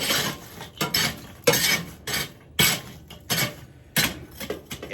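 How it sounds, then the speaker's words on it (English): Leftover charcoal briquettes shoved across the grate of a Weber Performer kettle grill, giving repeated close, loud scraping and clinking bursts in an irregular rhythm, with no talk. "I am going to push off this extra coal that I had left over from that last cook"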